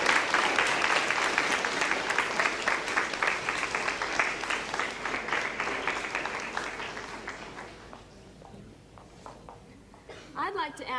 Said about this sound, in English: Now let's give an applause to our visitors from England.